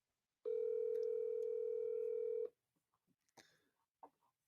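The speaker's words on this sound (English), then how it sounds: "Pat's gonna give you a call real quick on your phone" A telephone tone sounds for about two seconds as a steady, loud, pure electronic tone, then cuts off, leaving a few faint clicks and soft handling noises.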